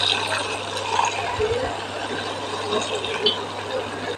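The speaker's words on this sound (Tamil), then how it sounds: "இந்த நேரத்தில் லைட்டாக தண்ணி ஊற்றி இந்த மாங்காய் வேக வச்சுக்கணும்." Water trickling and splashing from a tap into a pan of cooking mango, a steady faint pour with light bubbling and kitchen clatter in a home kitchen.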